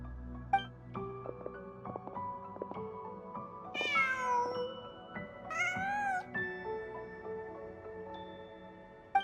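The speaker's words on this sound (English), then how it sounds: "Just a cat." A cat in the video game Genshin Impact meows a few times, drawn-out and whiny calls standing out over soft game music in the background.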